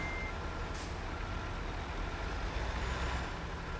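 A Kenworth T680 truck in American Truck Simulator idles with a deep engine rumble while steady reversing beeps repeat over it, a short hiss of air brakes mixed in.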